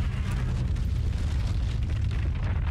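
A deep, rumbling explosion from Call of Duty: Infinite Warfare gameplay, a heavy sustained boom filling the low end at steady loudness with faint crackle above, and no voices.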